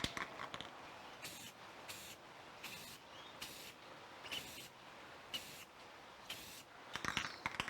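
Rustoleum satin clear coat hisses from an aerosol spray can in repeated short bursts of about half a second, evenly spaced over steady background noise, close to the listener, with no talking.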